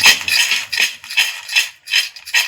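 Fried masala peanuts tossed with chaat masala give off a dry, crisp rattle in repeated bursts of about half a second each, close and fairly loud, with no talking.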